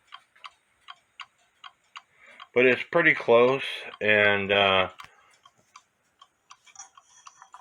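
A 1917 Junghans German mantle clock ticks steadily with a crisp, even beat, close up, running throughout while someone speaks briefly in the middle.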